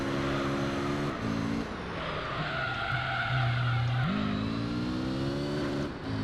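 A Honda NSX in Gran Turismo 3 revs hard and accelerates through the gears. A loud, steady engine drone rises in pitch, drops at each shift and climbs again, with tyre noise underneath.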